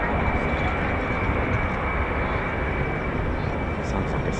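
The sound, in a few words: C-17 aircraft taking off at air show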